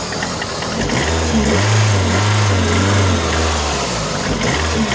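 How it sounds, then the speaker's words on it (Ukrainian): A VAZ Kalina 1.6 engine runs during a test drive with a cheap, rough buzzing drone that swells and rises in pitch midway before settling, loud and close, with no speech. "зараз буду пробувати проїхатися, включити передачі, як вона їде"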